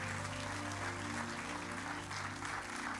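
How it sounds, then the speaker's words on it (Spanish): A church congregation claps together in sustained, steady applause, fairly quiet and distant, with organ or keyboard notes sounding beneath it. "Dele un fuerte aplauso a Dios por eso."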